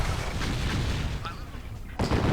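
Artillery fire from a real-time strategy battle in C&C Tiberian Sun, a dense rumble of distant booming shots with a sharper blast near the end.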